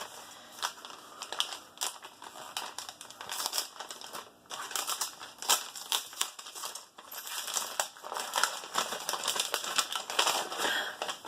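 Continuous crinkly rattling of a packaged set of Crayola watercolor pencils being handled up close, with irregular clicks and plastic crackles throughout.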